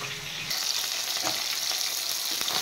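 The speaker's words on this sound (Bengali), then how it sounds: "মাছ ফ্রাই হয়ে গেছে" Fish frying in hot oil makes a dense, continuous crackling sizzle that swells louder after a moment and stays bright and close, with small pops scattered through it and no voices.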